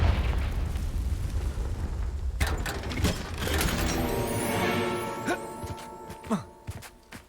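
A Confringo fire-blast spell bursts in Hogwarts Legacy, sharp explosive cracks and crackling debris following a spoken incantation, with mechanical clatter trailing off.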